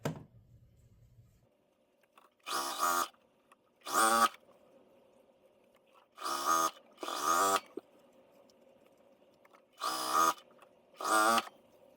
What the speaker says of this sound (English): So now I'm just going to fold this down, nest my seams, and sew it together.